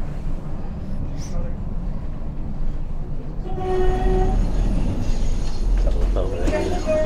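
A Blackpool tram pulls into North Station tram stop, its steady rumble and rolling noise swelling louder midway, with squealing and tonal whines near the end as it slows.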